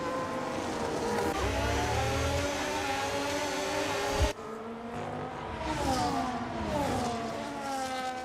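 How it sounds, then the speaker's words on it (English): Formula 1 race cars in an F1 racing video game at an Australia round scream past with high, whining engines whose pitch climbs through the gears and drops as they go by. There is a brief cut near the middle, and the sound is steady and loud throughout. "As Lucas is having more issues, being overtaken by Nathan Powers this time in the Aston Martin."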